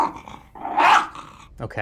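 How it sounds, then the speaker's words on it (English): A dog gives a short, rough growl in the middle, loud and close, framed by quieter noise; a person briefly says one word near the end. "That sounds like a dog."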